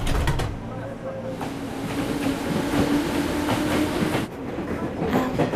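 A train pulls in on rails, its rumbling, clattering wheels and a steady low drone filling the scene, with voices talking over the noise.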